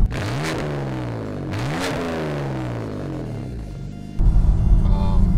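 A BMW F80 M3 with a full titanium Autobahn catback exhaust with active valves revs up hard twice, each rev rising in pitch and falling away, then settles into a loud, rumbling idle.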